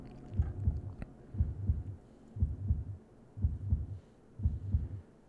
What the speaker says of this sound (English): I really like the effect of hearing our heartbeat in our ears.